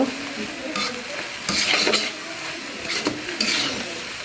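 Fried rice with meat and home-grown garden vegetables stirred and tossed in a pan, a steady scraping sizzle with several louder clanking strokes of the utensil against the metal, close and fairly loud, with no talking.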